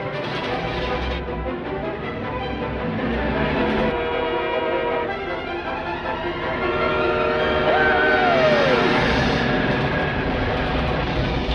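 A moving train from a scene with teenage Clark Kent in Superman rumbles steadily for the whole stretch, mixed with orchestral music and a rising tonal sweep near the end.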